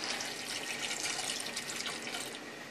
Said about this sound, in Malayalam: ഞാൻ 2 കപ്പ് ഒരു ഇളം ചൂട് വെള്ളമാണ് ഒഴിക്കുന്നത്.